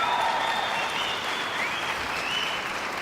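Families in the crowd at a 2014 Front Range Community College Larimer campus graduation ceremony clap loudly and steadily, with piercing whistles sliding over the dense applause and stomping adding to the noise.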